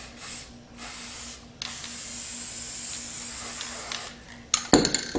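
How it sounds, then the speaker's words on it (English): Spray finish hissing from an aerosol can onto a glittered jeans craft project in long, steady bursts with a brief pause, followed by a few light clinks at the end. "I'm gonna go ahead and use the spray finish, and I'm just gonna cover that area"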